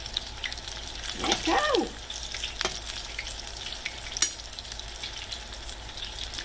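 Apple fritters frying in hot oil give a soft steady sizzle, with a brief stirring splash early and a sharp clink later, while a voice speaks briefly.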